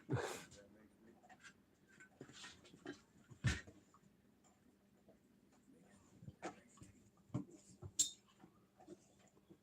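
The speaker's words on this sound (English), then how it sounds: "you're just sniffing the rug" A dog sniffs at a rug indoors, giving quiet intermittent snuffles and soft clicks, faint and close, with a few sharper taps scattered through.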